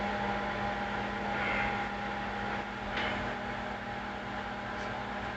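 A large microwave oven cooking a western omelet gives a steady, low hum with a faint whir and a couple of soft clicks, running alone and quietly.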